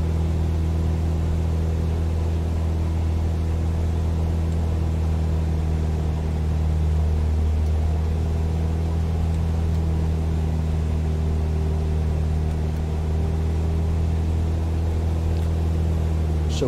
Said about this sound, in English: So now when we idle the engine up to almost maximum RP